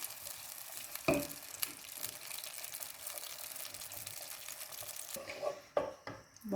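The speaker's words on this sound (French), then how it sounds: "je rajoute la sauce tomate, on va bien mélanger." Tomato sauce goes into an aubergine gratin and is stirred through, giving close, quiet frying sizzle with scraping stir strokes and a few sharp knocks against the pan.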